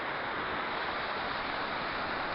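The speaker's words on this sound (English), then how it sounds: "This has been the biggest waterfall that I've ever recorded on this channel." A large waterfall in the wilderness roars as a dense, steady wash of rushing water, loud and unbroken, with no voices over it.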